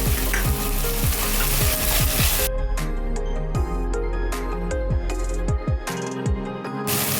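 Turmeric and other ground spices hit hot oil in a Konkan-style kitchen, crackling loudly and close while a utensil scrapes and clanks against the pan in quick repeated strokes.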